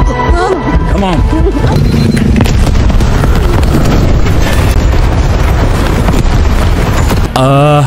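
A bomb goes off in a sci-fi alien invasion film, with heavy, continuous booming blasts and rumbling destruction that stay loud throughout, mixed with a film score and voices.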